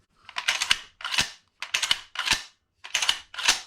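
Metallic clacks of an SKS rifle's action being worked during a field strip, in three pairs of sharp, close, loud snaps with brief pauses between them and no talk.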